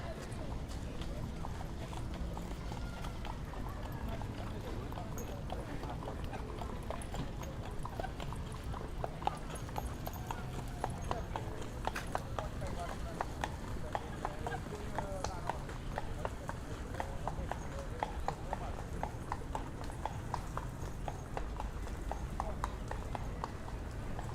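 Horse hooves clip-clop steadily on pavement in New York City, a regular trotting rhythm with people chatting and city background noise throughout.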